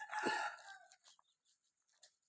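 Chickens and chicks call nearby at a temple, one loud squawking cluck followed by softer scattered clucks fading into quiet.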